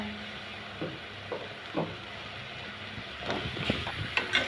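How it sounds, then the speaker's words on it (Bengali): Radish pieces fry in a spice mix in a pan for a sour village-style dish. A steady, fairly faint sizzle runs throughout, with occasional soft stirring knocks that grow busier toward the end. "এখন মূলাগুলো একটু সামান্য কষিয়ে নিব 3 মিনিট"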